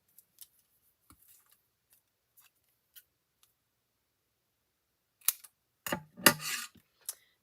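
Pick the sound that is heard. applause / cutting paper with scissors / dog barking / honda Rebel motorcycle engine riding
cutting paper with scissors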